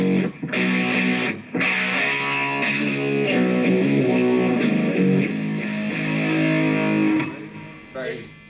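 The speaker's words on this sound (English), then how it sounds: "It's a big, thick, cool distortion." A thick, heavily distorted electric guitar played through a distortion pedal plays sustained chords and notes, loud and close, with brief breaks between phrases.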